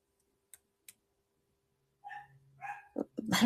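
A pet dog indoors, silent at first apart from two faint clicks, then gives a couple of short, mid-loud barks and yips before one loud, sharp bark at the end.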